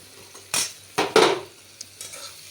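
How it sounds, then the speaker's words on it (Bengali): Onions frying in a pan as the base for a spicy fish curry, with a soft sizzle broken by a few sharp clanks and scrapes of a spoon stirring against the metal, fairly close. "বন্ধুরা পেঁয়াজ ভাজতে দিয়েছি মাছের ঝাল করবো"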